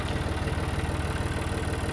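Tractor engine running on a building site during post-and-truss construction, a steady low rumbling drone with an even throbbing pulse throughout.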